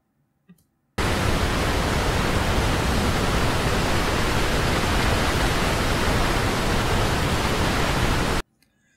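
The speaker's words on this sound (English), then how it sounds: "let's take a listen to an actual waterfall sound that I grabbed from the internet" A dense, steady rush of a waterfall plays for several seconds, broadband and unbroken, starting and stopping abruptly after a small click.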